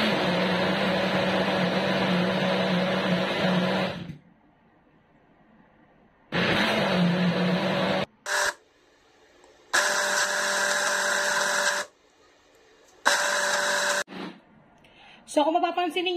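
An electric blender whirs loudly in several separate bursts as it blends rice batter for putong bigas, a steamed Filipino rice cake, with short quiet pauses between the runs.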